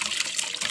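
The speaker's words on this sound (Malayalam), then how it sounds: "ഇപ്പാടുന്നതാണ് നമ്മൾ ചെടിക്ക് വെള്ളം ഒഴിക്കുന്നത്" Water pours from a small hand-held bucket onto garden plants in a brief, steady, close splashing gush.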